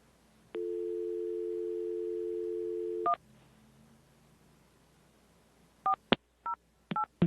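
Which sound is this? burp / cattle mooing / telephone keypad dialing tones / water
telephone keypad dialing tones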